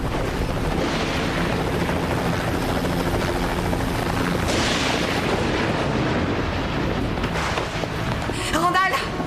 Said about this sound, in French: L'hélicoptère va arriver!